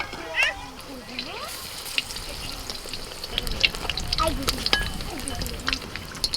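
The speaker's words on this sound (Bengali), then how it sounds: "গরম গরম বেগুনিটা ভেজে নিচ্ছি" Eggplant fritters (beguni) frying in hot oil, a soft steady sizzle and bubbling heard faintly beneath someone talking nearby.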